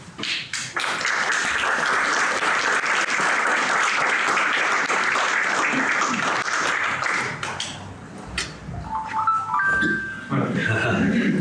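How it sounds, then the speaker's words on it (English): Sustained, loud audience applause at a poetry reading in a gallery, following the reading of a batch of poems; dense clapping fills most of the stretch and then thins out as a voice begins speaking near the end. "make an applause at the end"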